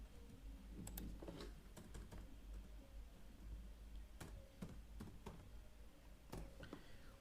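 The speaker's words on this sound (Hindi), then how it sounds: "मैं खुद टाइप कर रहा हूं" A computer keyboard is typed on in irregular bursts of soft, close clicks, with short pauses between keystrokes over a low steady hum.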